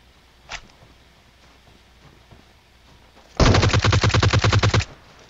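Automatic gunfire in the mobile battle-royale game PUBG Mobile: after a faint single crack, a loud rapid burst of evenly spaced shots rattles for about a second and a half, then stops abruptly.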